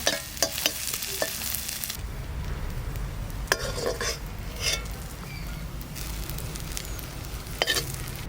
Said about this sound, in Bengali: চিংড়ি মাছটা ভাজা হয়ে গেছে, এবার তুলে নেব